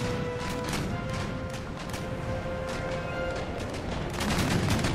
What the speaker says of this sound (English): Fire full broadside.